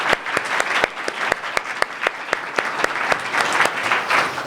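A room of attendees at a university event on decarceration claps for the organizer, steady close applause with sharp individual claps standing out clearly.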